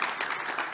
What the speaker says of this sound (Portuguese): Uma salva de palmas aos integrantes deste último painel.